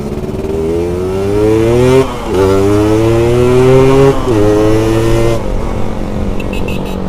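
A Yamaha RX King two-stroke motorcycle revs loudly and close, its buzzing engine climbing in pitch, dropping briefly, then rising again twice before settling back toward idle.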